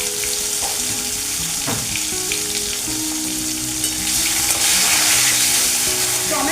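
Tomato with a little salt fries in hot oil over a cumin-seed tempering, giving a continuous bubbling sizzle with faint stirring scrapes that grows slightly louder toward the end.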